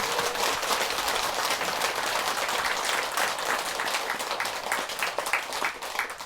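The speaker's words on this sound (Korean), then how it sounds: "박수" A steady wash of audience applause fills a Buddhist dharma talk hall, dense clapping from many hands holding loud and even throughout before tapering slightly near the end.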